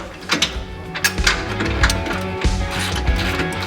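A ratchet wrench tightens bolts on a vehicle chassis being strengthened for a Baja build, giving close, rapid clicking in short repeated bursts over a steady background hum.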